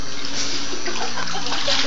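Floodwater pours steadily into a house in Manila during heavy rain, a continuous loud rushing and splashing with no pauses.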